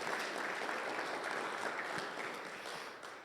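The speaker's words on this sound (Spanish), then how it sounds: "Dale un aplauso a Jesús en esta mañana" A church congregation applauds during a Spanish-language service, a dense, steady wash of clapping that fills the room and tapers off slightly toward the end.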